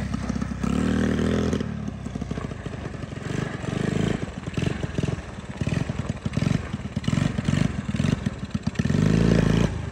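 A 1985 Honda ATC 110 three-wheeler revs hard during a wheelie, its small engine buzzing and roaring close by in choppy, surging bursts that rise and fall throughout.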